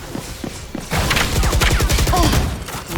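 Gunfire during a Valorant match: a few soft thumps, then a rapid close burst of shots with a fast rattling rhythm and scattered metallic pings, loud and with no speech over it.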